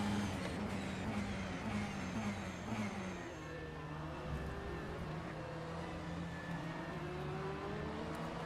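An LMP prototype race car in a Spa racing video game whines past with a steady droning engine note whose pitch slides as it goes by, over a continuous bed of other engine noise.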